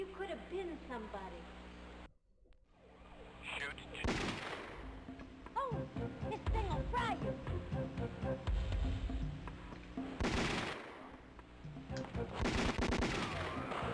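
Sega Saturn video game gunfire crackles in rapid bursts and volleys mixed with in-game effects and music, fairly dense throughout, with someone talking over it.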